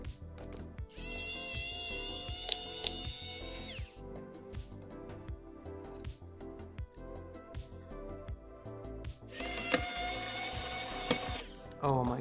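A magnetic screwdriver works on a PC heatsink while a retro-styled gaming PC is taken apart, giving close, repeated metallic clicks and ratcheting that come and go with two bright bursts of rattling.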